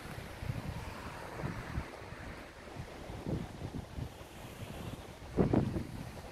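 Waves wash onto a pebbly beach at Dunoon, Argyll, Scotland, with gusty wind buffeting the microphone, surges rising and falling every second or so, one stronger wash near the end.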